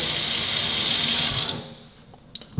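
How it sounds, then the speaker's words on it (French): Water gushes from a newly fitted kitchen tap into the sink, a loud, close, steady rush for about a second and a half before it shuts off, leaving faint drips and small knocks. "Donc là, on peut remplir l'évier."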